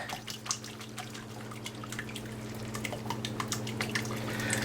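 Water drains from a pot of cooked potatoes in a faint, irregular patter of drips and trickles over a low steady hum, growing slightly fuller toward the end.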